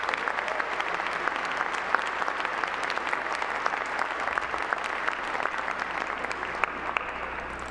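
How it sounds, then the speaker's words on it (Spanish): Church congregation applauding the deacons during Mass, a sustained, even, moderately distant patter of many hands clapping from start to finish with no talk. "Les damos un aplauso también a ellos."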